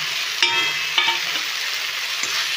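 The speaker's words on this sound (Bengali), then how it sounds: "এটা একটা কষাতে কষাতে এবার ভেজে রাখা আলুগুলো দিয়ে দিচ্ছি।" Fried potatoes are stirred into a spiced masala in a pan for Bengali dhokar dalna, with a steady sizzle and a few sharp scraping clinks of a spoon against the pan, and no talking.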